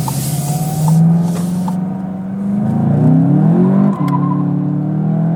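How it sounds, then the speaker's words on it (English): A 2019 Volkswagen Jetta GLI pulls away hard with wheel spin, its engine loud and close, rising in pitch through the revs, then dropping briefly at a shift before climbing again. "Wheel spin very evident."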